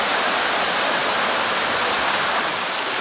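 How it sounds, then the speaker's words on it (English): The waterfall at Nant Y Ffrith rushes steadily nearby, a dense, loud, unbroken hiss of falling water with no voices. "apparently the last waterfall is on the other side"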